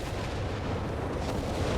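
Nebelwerfer rocket artillery firing in Company of Heroes 3, a continuous loud rumbling barrage of booms and blasts that fills the whole short stretch without any pause.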